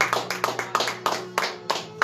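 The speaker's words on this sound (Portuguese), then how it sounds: "Você pode aplaudir o Senhor nessa noite?" A church congregation clapping together in an evening service, the claps falling in a steady rhythm about three per second over a sustained low musical tone.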